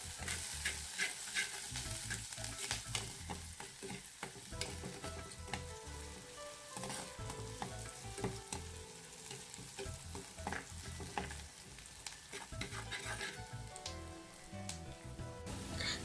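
Green chillies and curry leaves sizzle in an ambarella curry base while a spoon stirs and scrapes the pan repeatedly, frying crackle running continuously beneath the clatter.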